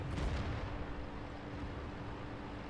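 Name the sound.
tank gunfire in video game World of Tanks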